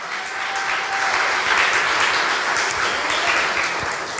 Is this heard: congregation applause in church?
yes